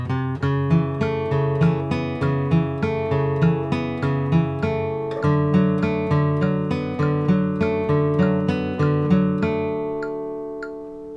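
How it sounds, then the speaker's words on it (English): A flatpicked acoustic bluegrass guitar plays the B part of Beaumont Rag in a cross-picking pattern, a steady, evenly spaced stream of bright, ringing single notes, up close and with no talking. "So for example, the B part to Beaumont Rag sounds like this."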